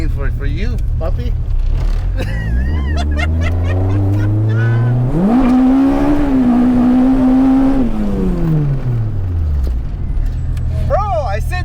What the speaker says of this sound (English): now I'm just warming up the tires